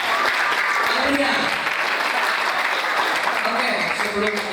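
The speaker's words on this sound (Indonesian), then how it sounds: "Tepuk tangan untuk Kaliman" Audience applause at a school arts performance celebrating a 31st anniversary, steady dense clapping from a crowd throughout, with some voices mixed in.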